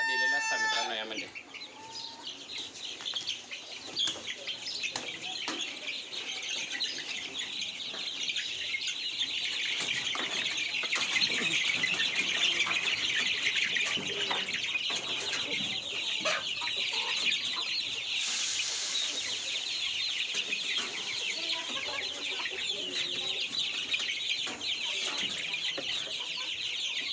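Native village chickens clucking steadily and close by, with an occasional rooster crow and small bird chirps, as a continuous flock chorus with no talk.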